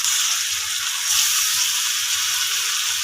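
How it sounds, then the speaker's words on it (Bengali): Whole garam masala and bay leaves sizzle in hot oil in a pan, a steady bright frying hiss that swells briefly midway, with faint stirring scrapes and no talking. "দিয়ে দিব দুটো তেজপাতা, দিয়ে দিচ্ছি গোটা গরম মশলা, দিয়ে একটু নেড়ে চেড়ে নিচ্ছি"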